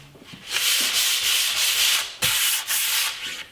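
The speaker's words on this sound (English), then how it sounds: "I'm done sanding" Rhythmic sanding strokes rasp back and forth across a finish coat on a wooden storage cabinet, close and loud, with brief pauses between passes.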